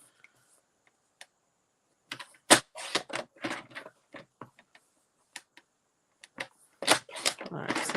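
Scissors snipping designer series paper into small strips for card making, close up, a cluster of sharp crisp clicks and rustles mid-clip with scattered single snips before and after, no talking.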